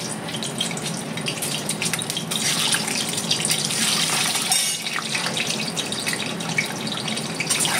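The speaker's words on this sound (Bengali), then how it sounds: "এই যে তেল আমার গরম হয়ে গেছে, তাই ডিমটা আমি এখন ভেজে নেবো আগে।" Eggs fry in hot oil for an egg-stuffed pointed gourd dish, giving a dense, steady crackling hiss that swells slightly midway and stays loud and close throughout.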